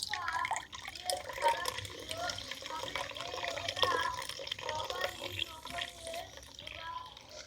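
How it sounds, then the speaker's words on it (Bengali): Ground soybean paste is pressed through a strainer to extract soy milk, with steady wet trickling and dripping nearby as someone talks over it throughout. "আবারও কিন্তু ওইভাবে ছেঁকে নেব।"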